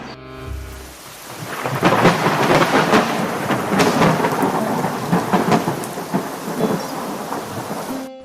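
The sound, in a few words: heavy rain and strong wind storm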